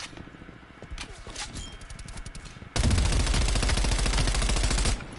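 Rapid automatic MP5 fire in Call of Duty Cold War opens in scattered bursts and then becomes a loud, continuous stream of close shots. The last few seconds are dense and sustained.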